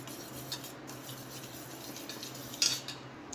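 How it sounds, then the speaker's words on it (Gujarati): Milk and milk powder are stirred together in a bowl for a coconut sweet: a soft, quiet scraping swirl with one brief utensil clink near the end. "એક બાઉલ લઈ એમાં આપણે દૂધ અને મિલ્ક પાવડર મિક્સ કરી લઈશું"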